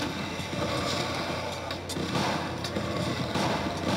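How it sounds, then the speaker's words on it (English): Gunfire in the zombie shooter game Resident Evil: The Umbrella Chronicles, with dense repeated shots and booms over a constant, noisy game soundtrack at moderate level. "Let's see if I can get a couple one-shot head kills."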